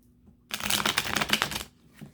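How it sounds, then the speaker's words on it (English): A Mystic Tarot card deck gets shuffled in one quick riffle lasting about a second, a dense close crackle of flicking cards against a quiet room with a faint hum. "let's give the Mystic Tarot deck a little bit of a shuffle here"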